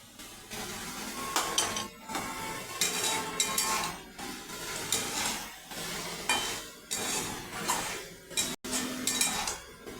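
Repeated scraping and clinking of a utensil against a pan as food is stirred, with a light sizzle underneath, steady and close.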